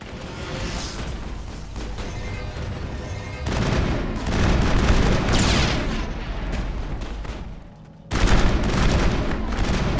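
Grenade blasts and gunfire in the Mass Effect video game, a dense, loud stretch of booming explosions and shooting with a brief drop near the end before another blast hits.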